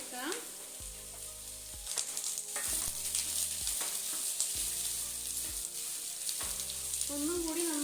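Onions and green chillies sautéing in a pan for restaurant-style chilli chicken, a continuous sizzle with stirring scrapes, while a low droning hum repeatedly starts and stops in the background.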